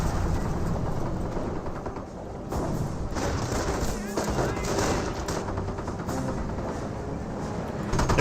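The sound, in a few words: 50 caliber machine gun fire in Company of Heroes video game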